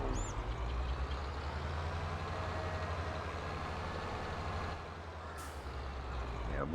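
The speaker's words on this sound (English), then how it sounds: "I must remember this is a very hungry tractor" A tractor engine in Farming Simulator 22 runs steadily throughout, a loud low rumbling drone with a brief dip near the end.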